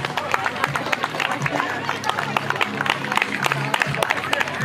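Applause for a second-place finisher at a children's micro-category cycling race prize-giving, steady scattered hand clapping from a small outdoor crowd over murmured chatter and voices.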